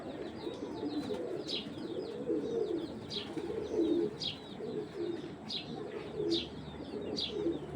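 A pigeon held in the hand coos repeatedly, soft low rolling calls in a loose rhythm, close by, with sharp higher chirps from other birds recurring in the background and no talking.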